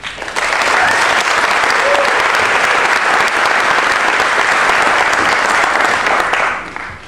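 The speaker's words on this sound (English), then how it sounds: "Let's have a big round of applause for Kristen Schleick" An Ignite talk audience breaks into a big round of applause for an architect taking the stage, loud steady clapping that swells quickly and fades near the end.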